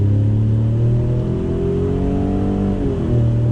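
The engine of a 2019 Ford Raptor, a 5,000-pound off-road pickup truck, revs on throttle. The tone is loud, close and steady, rising and dipping briefly in pitch, with no talking over it.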